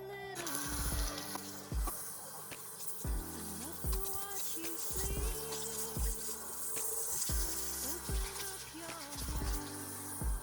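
Water runs from a tap to rinse a Monster High doll's hair, a steady faint stream broken by repeated splashing pulses as the hair is moved under the flow.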